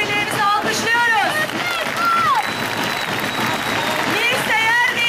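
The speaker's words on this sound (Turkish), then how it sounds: "Çok uzaklardan coşkumuzu paylaşmaya gelen yabancı misafirlerimizi alkışlıyoruz." At an April 23 National Sovereignty and Children's Day festival, an outdoor crowd applauds foreign guests. The clapping is steady and fairly loud, and a voice speaks over it.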